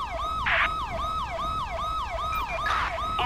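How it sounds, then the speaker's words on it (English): A police siren in GTA 5 with the LSPDFR mod wails in a fast, repeating yelp cycle, loud and close, with brief bursts of engine or radio noise layered over it. "Hey, turn off your siren."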